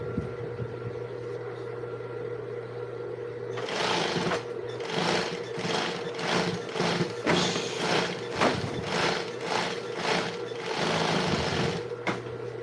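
A sewing machine runs in rapid stitching bursts with short pauses between them, loud and close, over a steady background hum, with no talking.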